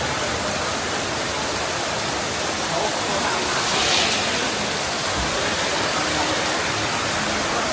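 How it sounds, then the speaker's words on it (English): Heavy rain pours down on city streets in China, a constant loud hiss of water striking pavement that continues evenly throughout, with a slight swell in the middle. "Listening to the sound of rain is a kind of enjoyment."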